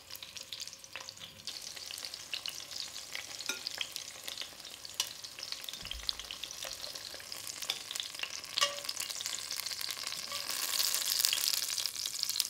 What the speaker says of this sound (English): We're going to put probably half of our shallots in here, and we're going to cook them for about 5 to 7 minutes until they're nice and caramelized